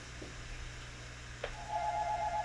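Electronic phone ring with a steady pulsing tone in the back half, heard in a room where people are making Easter basket products, over a low hum, moderately faint and with no speech.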